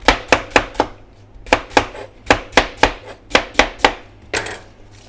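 Knife chopping fresh crisp cabbage on a cutting board, sharp distinct strokes in quick rhythmic bursts, about fifteen chops with brief pauses, close and loud with no talking.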